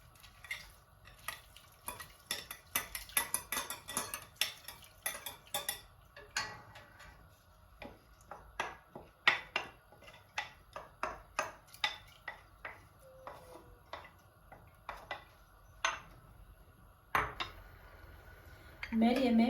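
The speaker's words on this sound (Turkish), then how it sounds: "kesilmesin diye karıştıracağım fokurduncaya kadar" A spoon scrapes and clinks against a pot of Turkish yogurt soup with bulgur, stirred in a steady rhythm until it bubbles, with quiet kitchen background and a brief voice at the end.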